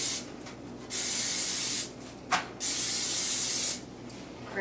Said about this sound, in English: I'm going to spray them with just a little bit of cooking spray on both sides